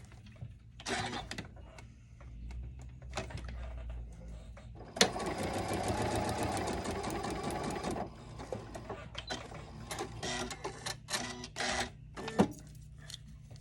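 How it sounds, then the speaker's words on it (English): A sewing machine stitches a fabric quilt block, with short bursts of needle chatter followed by a long steady run of several seconds and more brief runs after it, close up with soft handling noises between. "Let's go ahead and sew on that line."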